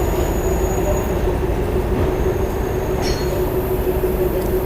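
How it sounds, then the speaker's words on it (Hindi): The Mussoorie Express, an LHB passenger train, departing the platform at 14342 Dehradun–Shakurbasti, a loud, steady, close rumble of rolling coaches with a faint high squeal from the wheels running through it, no voices. "ये हमारी जो ट्रेन है प्लेटफॉर्म नंबर 15 पर अराइव हुई थी और अभी हम यहाँ से डिपार्चर ले रहे हैं"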